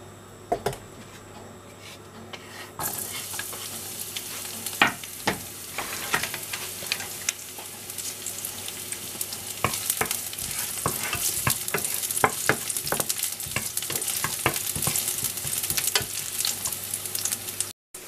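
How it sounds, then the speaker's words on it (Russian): Five cloves of chopped garlic fry in hot oil in a pan, giving a steady sizzle and crackle that starts abruptly and holds, with scattered scraping stirs on top. "И сейчас буду его обжаривать до золотистой корочки"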